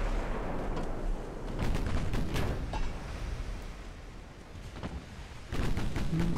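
Secondary naval guns on a warship fire in Ultimate Admiral: Dreadnoughts, with repeated booming reports over a dense, continuous roar of battle. Several sharper blasts stand out, and a heavier shot lands near the end.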